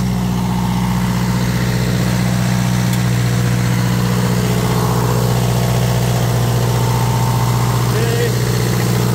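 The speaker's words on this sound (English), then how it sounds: "Let me start turning on, listen to the motor." An Onan 12.0 DJC generator engine runs under a load test, giving a loud, steady, close drone with a strong low hum that holds unchanged throughout.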